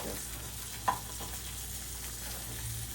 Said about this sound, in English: I just cook it on one side and then I'll flip it.